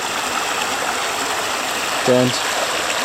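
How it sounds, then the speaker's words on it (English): Clear water flows in a forest stream, a steady close rush and trickle that goes on throughout, with a brief faint vocal sound near the end. "But again, very nice, clear water."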